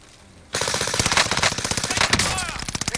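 Sustained automatic gunfire in Call of Duty: Modern Warfare on the Caldera map, loud and close, beginning abruptly after a quiet half second and continuing as a rapid stream of shots with casings clinking near the end.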